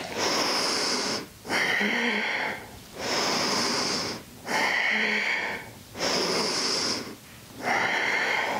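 Slow, steady breathing during a back-health yoga exercise: long, loud, airy inhales and exhales alternate in an even rhythm, about five breaths, close to the microphone with no talk.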